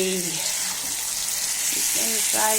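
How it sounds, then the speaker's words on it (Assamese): Chicken fries in a pan in a home kitchen, giving a loud, steady sizzling hiss throughout. A voice talks over it at the start and end. "এতিয়া এইয়া চিকেন ফ্ৰাই"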